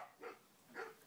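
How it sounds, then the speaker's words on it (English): A puppy gives two short, faint barks about half a second apart, heard from some distance in a quiet room. "What's he barking at? Barking at the cats."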